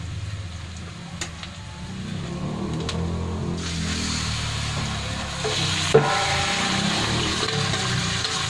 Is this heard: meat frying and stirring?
yes